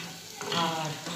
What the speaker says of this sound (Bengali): পোস্তর বড়া পেঁয়াজ দিয়ে ভাজছি